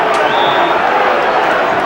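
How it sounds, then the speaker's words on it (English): A football stadium crowd at a West Ham United versus Derby County match boos the referee, a dense, loud, sustained roar of many voices. "The boos are for the referee."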